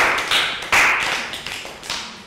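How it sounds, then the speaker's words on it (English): A classroom of Year 3 children gives a round of applause for a classmate during a health education fitness lesson, with scattered, uneven claps and taps coming in short bursts rather than a dense roar. "Round of applause for Prel."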